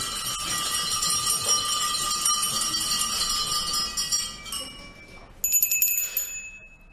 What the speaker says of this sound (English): has rung her bell